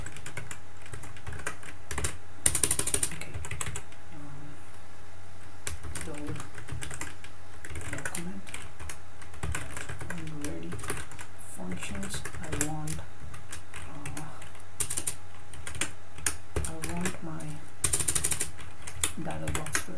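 Typing on a computer keyboard while writing a jQuery script, a steady run of light key clicks with a few louder bursts, close and fairly faint, with talk in the background.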